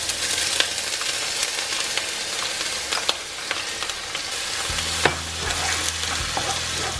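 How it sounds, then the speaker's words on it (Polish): Finely chopped red onion fries in olive oil for a chicken korma, with a dense, steady sizzle and occasional stirring clicks. A low hum joins in toward the end. "I teraz tą cebulę będę przesmażać przez około minuty."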